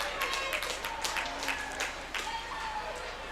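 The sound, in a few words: hockey fans cheering and applauding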